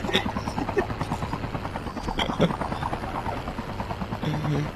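A helicopter in the mobile shooter Call of Duty Mobile drones with a steady rotor buzz throughout a short battle-royale moment, loud and continuous beneath players talking.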